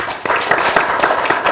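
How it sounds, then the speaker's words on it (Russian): Audience applause in a studio hall during a televised political debate show, dense clapping from many hands filling the room steadily, loud and close, with no talk over it. "аплодисменты."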